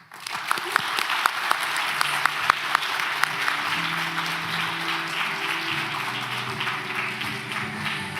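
Audience at a forum roundtable welcomes Vice President Lai with loud applause that bursts in abruptly with crisp individual claps, then settles into a steady wash while sustained tones hum underneath.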